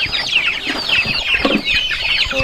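Broiler chickens on a farm clucking continuously, a close, busy flock chorus with overlapping calls and no talking.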